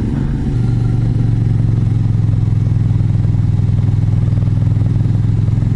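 A Suzuki Gladius 400 motorcycle engine drones steadily at close range, a constant buzzing hum with wind rushing past as the bike cruises along in Fukushima.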